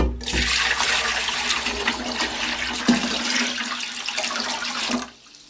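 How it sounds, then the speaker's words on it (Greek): Water gushes steadily into a large cooking pot for about five seconds, a loud, continuous splashing pour that stops abruptly at the end. "Θα ρίξουμε νερό σε μία μεγάλη κατσαρόλα."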